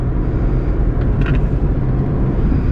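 A Volkswagen Polo car drives along an uneven village road at about 80, heard from inside as a continuous loud low rumble of engine and tyres, with a brief faint rattle partway through.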